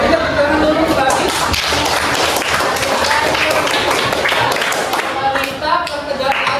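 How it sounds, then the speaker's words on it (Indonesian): A classroom of students clapping hands during a coding and artificial intelligence lesson, loud, dense clapping sustained for several seconds with a few sharp individual claps standing out, and some voices mixed in. "Oke, beri tepuk tangan dulu lagi"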